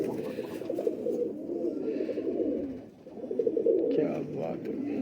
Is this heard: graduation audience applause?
no